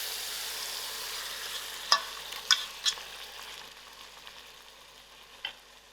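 Mutton curry is stirred in a pressure cooker, with a low background sizzle and three sharp spoon scrapes and knocks close together, then a quieter stretch and one last clink.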